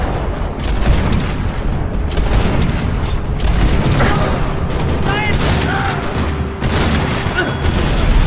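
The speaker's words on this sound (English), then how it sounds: "Another parking lot rattling with gunfire." Gunfire rattles through a parking lot in the video game Max Payne 3, loud, dense bursts and booms piling up continuously, with a voice briefly heard among the shots.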